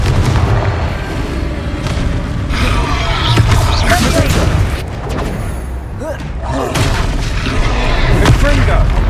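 A Confringo fire spell explodes repeatedly in the Hogwarts Legacy video game, loud booming blasts recurring through a chaotic fight with background clatter and game voices.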